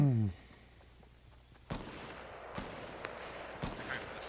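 Gunfire in the video game Fortnite Battle Royale: three sharp, separate shots about a second apart, punching out of a quiet background after a brief voice at the start.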